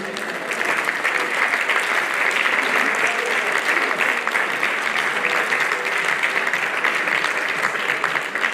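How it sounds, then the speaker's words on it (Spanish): A hall full of people at a mountaineering award gala claps steadily and loudly for an absent honoree, a thick continuous wash of applause rising after a brief quieter start. "Fortes aplauso para Enrique Toba, ainda que non este aquí"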